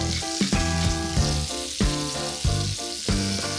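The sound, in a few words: chicken strips browning and sizzling in a pan with curry paste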